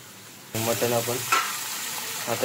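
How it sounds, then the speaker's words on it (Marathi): A sudden burst of sizzling as ginger, garlic and whole spices hit hot oil, settling into steady frying hiss under a faint tonal hum. "आला आणि लसूण आणि आपला खडा मसाला ह्याची फोडणी दिली"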